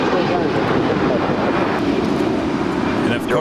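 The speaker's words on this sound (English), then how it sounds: "the 777 going long on 25 left" A Boeing 777 airliner rolls long down runway 25 left at LAX, a steady, loud broadband engine roar that holds evenly throughout with a faint rising whine near the end.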